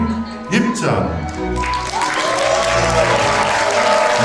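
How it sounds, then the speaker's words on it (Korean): Wedding guests in a banquet hall applaud as the mothers enter, with dense sustained clapping rising after a brief swell of music and voices, continuing loudly throughout. "양가 어머님이 입장할 때 아낌없는 박수 부탁드립니다."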